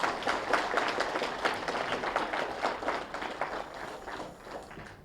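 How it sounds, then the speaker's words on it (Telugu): Audience at a meditation gathering clapping for a guest speaker, a brisk, evenly paced round of applause that starts strong and slowly tapers off. "గట్టిగా చప్పట్లు కొడదాం మేడంకి"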